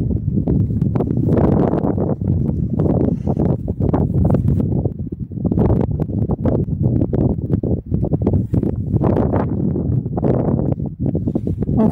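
Gusty wind blows outdoors on a walk, buffeting the microphone in loud, continuous low rumbling bursts with no voices.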